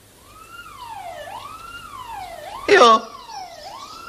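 An ambulance siren wails up and down in steady sweeps at moderate distance, with a brief spoken word cutting in near the end.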